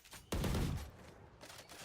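Odin machine gun in Valorant firing a short, loud burst of automatic fire that cuts off abruptly, with a fainter trailing burst after, heard during a professional match.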